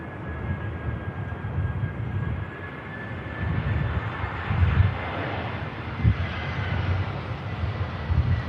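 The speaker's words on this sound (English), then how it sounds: "Firm but fair touchdown from the EasyJet" An EasyJet airliner touches down on the runway at Manchester Airport, heard from a distance as a steady broad roar with a faint whining tone, swelling slightly with a few low thumps as the wheels meet the ground.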